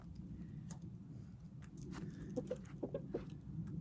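A backyard hen, still going through a molt, clucks softly in a few short bursts close by over a low, steady background rumble.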